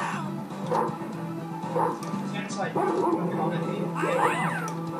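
A dog barks and yips in short bursts over a droning background, some yelps rising in pitch, with talking mixed in, from a video game on a Packard Bell Legend 402CD computer.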